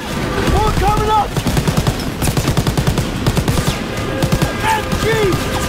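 Rapid machine gun bursts rattle through a Call of Duty WWII battle scene, loud and close, with shouting voices and other gunfire layered in the background.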